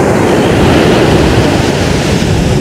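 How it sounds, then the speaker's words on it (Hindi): Sea waves roll onto Dubai Marina beach, a loud, continuous wash of surf up close with steady rushing noise and some wind on the microphone. "तो पानी की आवाज सुन रहे हो,"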